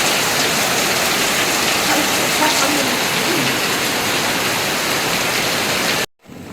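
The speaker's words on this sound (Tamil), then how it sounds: "பயங்கரமாக மழை பெஞ்சிருச்சு." Heavy rain pours steadily at Gardens by the Bay in Singapore, a dense, loud, even hiss that continues without a break before cutting off abruptly near the end.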